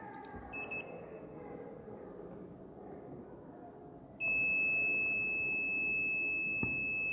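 A multimeter's continuity beeper, probing the field coils of a dismantled electric motor stator, gives a short double chirp and then a steady, loud, high-pitched tone that holds for several seconds.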